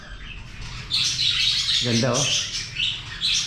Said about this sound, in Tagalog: Alagang ibon.